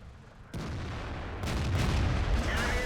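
In World of Tanks, a British tank gun fires as a sudden heavy boom that opens into a sustained roar, with a second blast rising to a louder rumbling wash of game combat noise.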